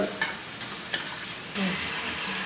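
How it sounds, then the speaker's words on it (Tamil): Liver fry with curry masala powder and salt is stirred in a pan: a soft continuous sizzle broken by a few brief clicks and scrapes from the spoon. "கறி மசாலா பொடி கொஞ்சம் போட்டுக்கிடுவோம் கொஞ்சம் உப்பு போட்டுக்கிடுவோம் நல்லா கிண்டி விட்டுக்கிடுவோம்"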